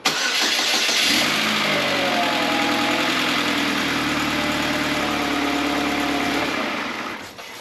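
A Chevy Cobalt engine, just fitted with a new head gasket, cranks and catches, then settles into a steady, loud idle close by for several seconds before fading slightly at the end.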